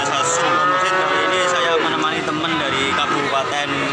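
Cattle low and moo continuously at a busy cow market in Blora, several animals calling over one another, loud and close, mixed with crowd noise and some talk.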